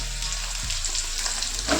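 Gourd pieces dropped into hot oil with a bay leaf and black cumin tempering, bursting into a loud, crackling sizzle that settles into continuous frying with a brief flare near the end.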